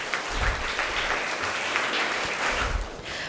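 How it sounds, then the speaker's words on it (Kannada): Crowd at a charitable trust's girl awareness campaign event applauding, a sustained wash of many hands clapping, loud and even, filling the whole stretch without talk. "ಇವರಿಗೆ ಜೋರಾದ ಚಪ್ಪಾಳೆ ಹೊಡಿಲೇಬೇಕು."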